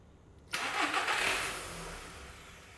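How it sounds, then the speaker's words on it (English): A car with a network fault cranks and fires into a sudden burst of engine noise, then settles and dies away as it stalls, close and alone without talking. "I'll go and try and start the car."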